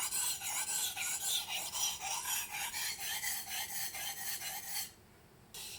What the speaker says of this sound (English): Okay, now comes the last side of the sharpening stone.